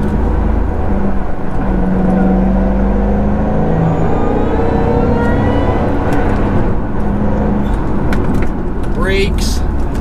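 A 2008 Shelby GT500 heads up a big hill while downshifting and accelerating, its engine a loud, close, continuous low drone with a rising note near the end.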